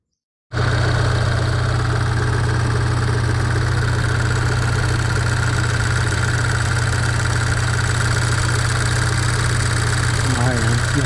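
A Renault Megane RS GT 220 with the F4RT engine and a suspected faulty injector idles close and loud, a steady mechanical drone with a fine ticking clatter running throughout.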